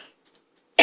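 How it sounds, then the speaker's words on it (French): A single sharp cough from a woman with a lingering cough, close to the microphone and loud, following a near-silent pause. "Pardon, je tousse encore beaucoup."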